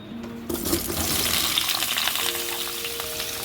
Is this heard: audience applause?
no